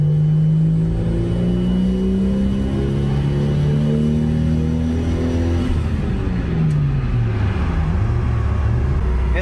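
Toyota Supra MK4 twin turbo engine in a left-hand-drive car revving hard, a loud, continuous engine roar whose pitch climbs, drops and climbs again, close up with no speech.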